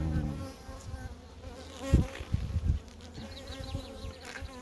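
Honeybees buzz on a comb frame lifted from an artificial mini swarm with brood and honey, a steady dense hum with louder close passes of individual bees near the listener.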